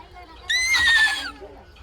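A voice imitates a horse neigh, one short high whinnying call with a wavering pitch, close and fairly loud against a quiet background.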